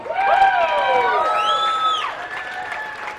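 A crowd at a live radio morning show event applauds and cheers, with whoops and shouts rising and falling over clapping, loud at first and easing off toward the end.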